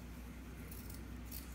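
Scissors cut through cloth to make a pet toy, with two short close snips standing out over a steady low hum, and no talk.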